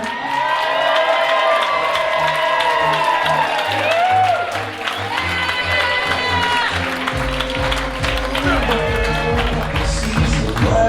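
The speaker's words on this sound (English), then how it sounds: "keep that applause going" Wedding guests keep up continuous applause and cheering during the introductions of the families, under loud music with a steady beat.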